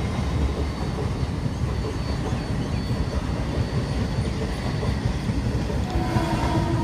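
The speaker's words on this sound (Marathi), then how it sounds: "ही लोकल आली।" A Mumbai local train bound for Karjat rumbles past nearby in the monsoon, a steady loud roar of wheels on rails that lasts throughout with no voices.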